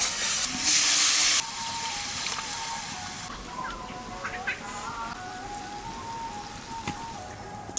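Water poured onto hot fried spice paste for a quail egg curry, a loud hissing burst of steam that quickly settles into a softer, steady bubbling sizzle with faint crackles and no talking.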